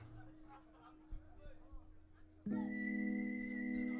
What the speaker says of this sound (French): Tu vois, il y a le petit sifflement.